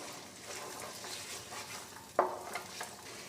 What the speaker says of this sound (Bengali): নেড়ে মিশিয়ে 1 মিনিট মতো ভেজে নেব।